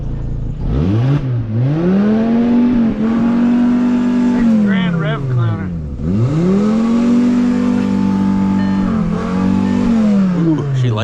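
A VW Beetle engine with about 230,000 miles revs up and drops back several times, loud and close, with rising and falling whines between steadier held revs.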